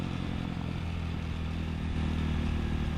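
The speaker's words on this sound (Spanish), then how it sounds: "La moto que traigo en esta ocasión es una Crossmax 250, la normal." A 2019 Crossmax 250 motorcycle engine, rated at 17 horsepower, runs close by with a steady, throbbing rumble that grows slightly louder near the end. No one speaks.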